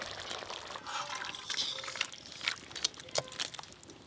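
Cooked stingray fish curry, made with mustard oil, bay leaves and dried chili, poured out of a cooking pan, giving soft liquid splashes and drips with a few sharper clinks near the end, fairly quiet and close.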